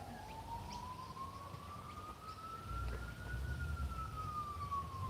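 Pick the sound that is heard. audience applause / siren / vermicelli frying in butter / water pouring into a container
siren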